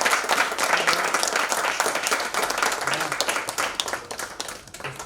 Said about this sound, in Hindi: मुझे लगता है कि एक जोरदार तालियों से